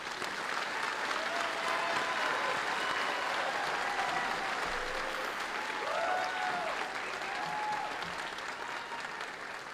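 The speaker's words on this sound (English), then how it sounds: "join me in a round of applause for these distinguished soldiers" Steady applause from a large crowd at an Army basic training graduation ceremony at Fort Jackson, clapping continuously at moderate volume for the whole stretch, with faint cheers mixed in.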